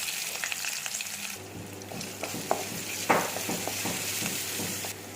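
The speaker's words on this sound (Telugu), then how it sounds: "ఇప్పుడు ఉల్లిపాయలు వేస్తున్నాము" Onions, garlic, ginger and curry leaves frying in about four spoons of oil, a steady close crackling sizzle with occasional spoon taps and scrapes against the pan, alone with no voices.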